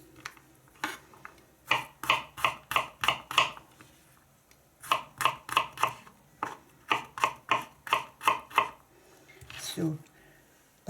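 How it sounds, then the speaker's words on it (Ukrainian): A knife chops garlic cloves on a board in quick runs of crisp, evenly spaced taps, several bursts close up with short pauses between them. "Можна от так от порізати, якщо зубочок часнику не сильно крупний."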